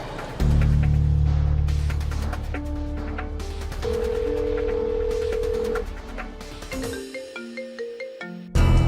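A phone call rings out: steady electronic ringback and ringtone tones, loud and sustained, with a brief cut and a final burst near the end, no voices heard.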